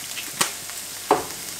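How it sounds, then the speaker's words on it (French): Garlic and onion soften in a frying pan with a soft, steady background sizzle, broken by two brief scraping stirs. "Je suis en train en même temps de faire revenir de l'ail et de l'oignon pour la tombée de chou."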